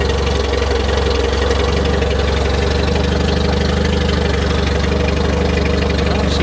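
A decayed Honda Prelude from around 1980, nearly out of gas, idles close by with a loud, steady, unbroken engine rumble and no change in pitch.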